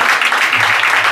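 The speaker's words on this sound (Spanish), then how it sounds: "Un fuerte aplauso para ellos dos" Brief burst of dense, steady audience applause for two performers at a live show in a Spanish cider-house restaurant, evenly loud and close across the short moment with no voices on top.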